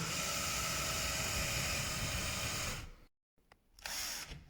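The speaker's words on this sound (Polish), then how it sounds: "Najpierw wiercimy mniejszym wiertłem oczywiście." A power drill with a small pilot bit whirs loudly and steadily for about three seconds, then cuts off, followed by a brief quieter burst of drilling.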